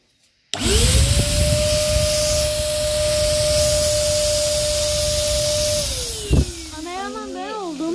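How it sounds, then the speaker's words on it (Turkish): An electric air pump inflates an inflatable car air mattress indoors, a loud steady motor drone running almost continuously after a sudden start, then stopping near the end as voices and a bright tonal sound follow. "şişirme makinesiyle şişireceğiz"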